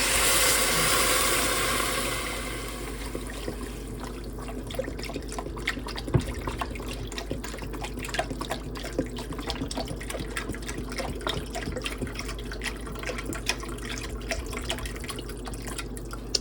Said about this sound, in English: Go ahead and add in the beef broth.